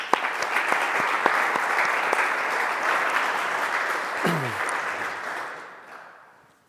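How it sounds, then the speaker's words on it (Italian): An audience at a talk applauds to welcome the speakers, with dense, sustained clapping that holds steady for several seconds and then fades away. "li accogliamo con un applauso"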